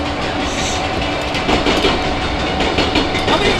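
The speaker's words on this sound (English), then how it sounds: "That railway line is incredibly busy today." A train rolls past on a busy railway line close by, a loud steady rumble with rhythmic clickety-clack of wheels over the rails.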